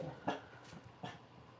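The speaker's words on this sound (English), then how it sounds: "bark like that when mommy's trying to go live, please?" A couple of pet dogs in a home give short, sharp barks or yips, two distinct bursts a moment apart against quiet room tone, fairly close by.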